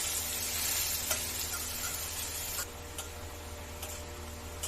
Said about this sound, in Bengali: পেঁয়াজগুলো একদম লাল লাল করে ভাজতে হবে, যতক্ষণ না বাদামি কালার হবে